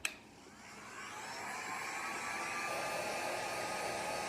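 Heat gun warming epoxy on a tumbler cup, a steady airy whir that starts with a click and holds at constant level throughout, no talking.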